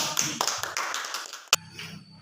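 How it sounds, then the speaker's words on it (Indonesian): Applause from students in a classroom for a presenting group, a short burst of scattered, fairly close claps that quickly thins out and stops. "beri tepuk tangan untuk kelompok."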